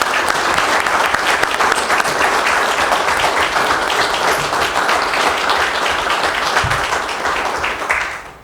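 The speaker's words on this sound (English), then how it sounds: "So for Firefighter Garcia and Lowry, I'd like to give them a round of applause." A city council meeting in Calumet City breaks into sustained applause for two firefighters, dense and steady clapping from a roomful of people that carries for several seconds before easing off at the end.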